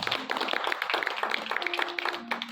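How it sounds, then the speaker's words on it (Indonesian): Guests at a church wedding ceremony clap together in a quick, rhythmic burst of hand claps that carries on through the moment. "Tepuk tangan sekali lagi Bapak Ibu Saudara."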